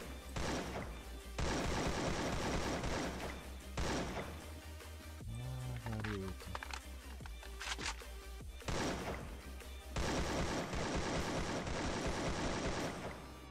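Bursts of rapid automatic AK rifle fire in Free Fire, several long sustained volleys separated by brief pauses, loud and close.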